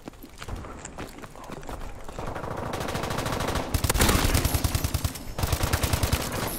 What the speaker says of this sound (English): Apparently all my bullets missed the Emili, dude.